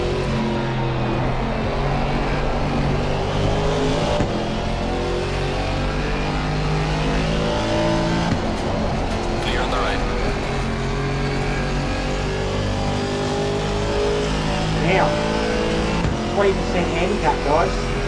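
A race car engine in the Assetto Corsa Competizione racing game revs hard and continuously at the start of a one-hour race, loud and close with shifting pitch as gears change, alone without talk.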